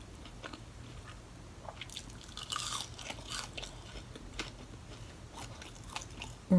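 Seasoned curly fries crunched and chewed close to the mic, with scattered soft bites and crisp crackles over a faint steady background hum and no talking.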